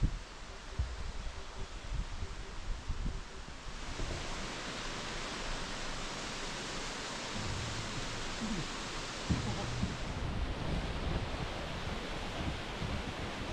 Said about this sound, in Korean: 바로 저 녀석이 명지폭포입니다. 높이는 10m밖에 안 되지만 물의 수량이 많아서 떨어지는 힘이 좋아서